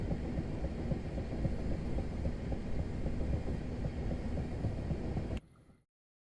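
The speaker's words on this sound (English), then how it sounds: "And little tiny train snakes its way through the" A small train in the Chatham Main Line railway simulator rolls steadily along the rails with a continuous low rumble, then the sound cuts off abruptly near the end.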